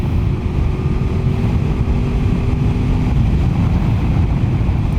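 A 1996 Honda VFR 750 F inline-four motorcycle engine droning at high revs, around 7,000 rpm, while riding, steady and loud, mixed with rushing wind noise.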